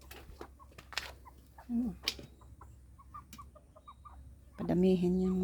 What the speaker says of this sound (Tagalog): Meron akong manok.